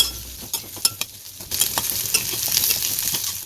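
Large-cut onions sautéing in hot oil in a pan crackle and sizzle, opening with a few sharp spatula knocks and scrapes before settling into a brighter, continuous fry.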